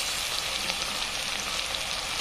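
Ginger, coriander and garlic paste fries in a pan with a dense, even sizzle, close and steady throughout the short stretch, no talk over it.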